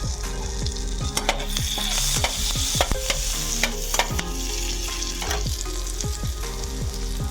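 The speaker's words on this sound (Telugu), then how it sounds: "ఇందులోకి మనం సన్నగా స్లైసెస్గా కట్ చేసిన గార్లిక్ని వేసుకోవాలి, వెల్లుల్లి వేసుకోవాలి." Thin slices of garlic fry in melted butter for Alfredo pasta, sizzling steadily throughout with frequent sharp scrapes and clicks of a spatula stirring the pan, close and alone without any talk.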